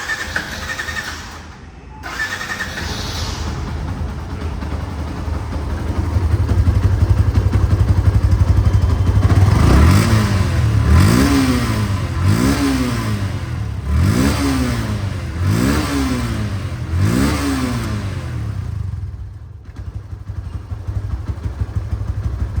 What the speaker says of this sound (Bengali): বাইকটির সাউন্ড কোয়ালিটি শুনুন।